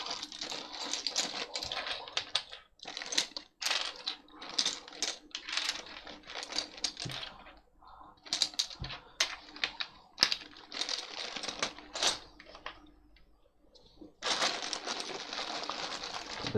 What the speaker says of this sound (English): test my keyboard.